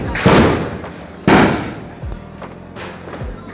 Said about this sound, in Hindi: ये अभी भी बम जला रहा है।